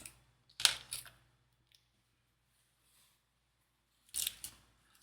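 Two short bursts of crisp slicing through paper with an X-Acto craft knife, one early and one near the end, separated by a long quiet stretch.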